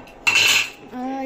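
A metal spoon knocks against a pot of freshly popped popcorn in two quick clinks, the second one ringing briefly, close and clear with no talking.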